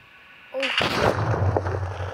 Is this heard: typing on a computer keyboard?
no